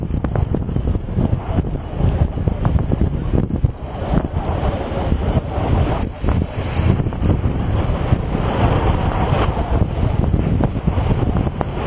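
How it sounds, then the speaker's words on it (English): Strong wind buffets the microphone on a beach in Jamaica, a continuous loud roar and rumble with surf washing underneath, no voices. "It's very windy today."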